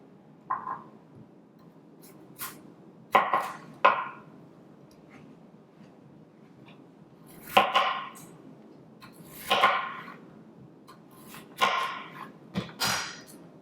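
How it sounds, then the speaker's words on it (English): Knife cutting potatoes into slices for oven-baked French fries: a series of sharp, separate chops against a board, spaced a second or two apart, close and fairly crisp over a quiet background. "So this is how you cut them. We're going to cut them in slices,"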